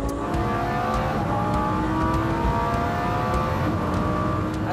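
A tuned 1500 hp Lamborghini Huracán Performante pulls hard under acceleration, its engine a loud, continuous roar heard from inside the car, with steady power and no talk over it.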